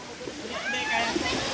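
Water sloshing and splashing as people wade across a cold, slippery river, a steady close wash of moving water with voices talking and exclaiming over it.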